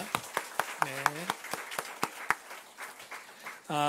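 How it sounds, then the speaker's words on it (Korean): Church congregation clapping to welcome new members, a sparse run of individual claps with a voice speaking over them and a brief louder burst at the end. "우리 박수 한번 쳐주시겠습니다"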